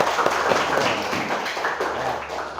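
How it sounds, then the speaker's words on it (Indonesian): Students in a high school classroom clap together in a dense, steady burst of applause that continues throughout at moderate loudness. "Mantap ya, tepuk tangan."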